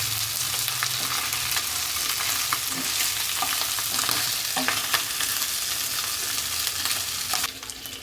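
Spicy chicken feet deep fry in a pan, giving a continuous close sizzle broken by scraping stirs and occasional pops.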